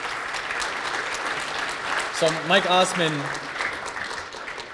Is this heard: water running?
no